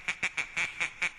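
Six evenly spaced nasal duck quacks from a novelty dance song, loud and clear with short gaps between them and no talking over them.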